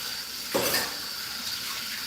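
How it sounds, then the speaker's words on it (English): Tap water running in a home kitchen as hands are rinsed, a steady hiss with a brief louder splash partway through, moderately close, and no voices. "After I rinse my hands off."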